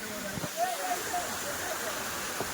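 Gavli Devi waterfall near Navi Mumbai: a steady, broad rush of falling water fills the background at moderate level, with faint voices and footsteps of people on the trail mixed in.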